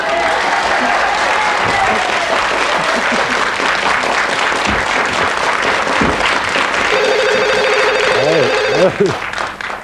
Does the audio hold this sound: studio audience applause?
yes